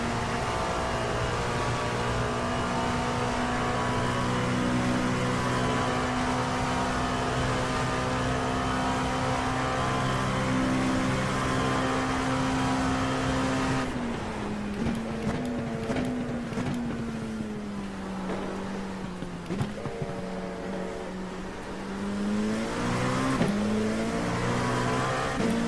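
Race car engines in the iRacing sim, Porsche and McLaren machines, one steady loud engine drone holding a high pitch that then drops and shifts through several gear changes and fluctuations, no voices.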